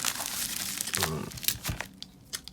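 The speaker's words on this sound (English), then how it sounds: "let's pop open this brick of cards from PWCC" Plastic wrapping crinkled and torn open on a brick of sports cards from a PWCC package, a close, busy run of crackling and ripping that thins out near the end.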